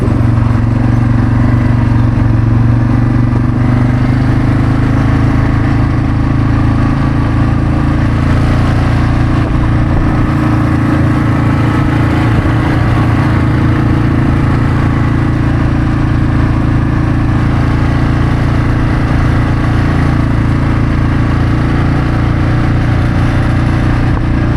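A quad bike engine drones loud and steady while riding through open swampland on a boar hunt, a continuous low rumble that swells slightly at times, with no voices.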